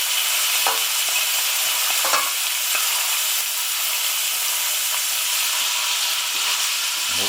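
A vegetable stew of frozen peas, soya chunks and spinach cooks in a pot, giving a steady close sizzle with occasional soft stirring clicks and scrapes, with no talking.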